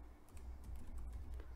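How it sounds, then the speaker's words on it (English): Quiet typing on a computer keyboard during a software walkthrough, soft scattered key taps at an uneven rhythm over a low background hum. "So let's start typing table one."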